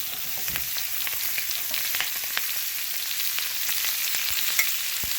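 Brussels sprouts and onions hit hot frying oil in a pan, giving a steady, fairly loud broadband sizzle with small crackling pops throughout, heard alone without talk.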